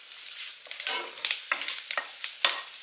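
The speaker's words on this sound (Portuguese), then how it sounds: "Aí o alho tá começando a ficar moreninho." Garlic sautés in a pan and starts to brown. Bright, crackling sizzles come up in short bursts, with a soft stirring scrape between them. Close and alone.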